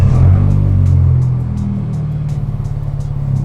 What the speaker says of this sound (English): I'm gonna go ahead and start the car.